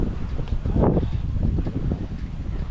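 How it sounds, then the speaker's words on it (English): Strong wind roaring steadily past the microphone during a motorcycle ride in Utah, a loud, continuous buffeting rumble with no voices. "Oh my God, that wind was something."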